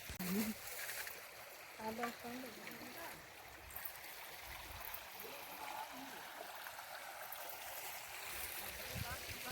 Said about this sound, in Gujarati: એવું અસલ પાણી વહી જાય આવે જો એવો અવાજ આવે પાણીનો